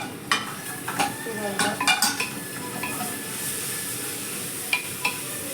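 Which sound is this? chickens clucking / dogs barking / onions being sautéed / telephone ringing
onions being sautéed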